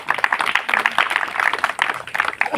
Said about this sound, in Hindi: तभी इनके लिए तालियां बजाएं।